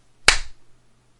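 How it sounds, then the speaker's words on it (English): A single sharp hand clap rings out once against a quiet background, close and loud, made to mark a sync point before a recording, with a brief decay afterward. "We'll do the clap in 3, 2, 1."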